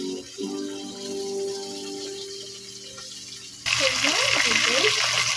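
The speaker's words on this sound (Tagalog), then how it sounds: "Magpiprito po tayo mga kananay ng tuna" Tuna frying in a pan, first with a quiet hum and faint bubbling, then a loud, steady hiss and crackle close by once the fish goes into the hot oil.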